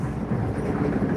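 A passenger train running from Loznica to Belgrade, Serbia, gives a steady, loud low rumble with a rough rolling texture throughout, with no voices.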